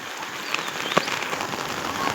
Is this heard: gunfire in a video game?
no